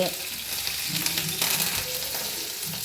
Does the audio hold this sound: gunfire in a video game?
no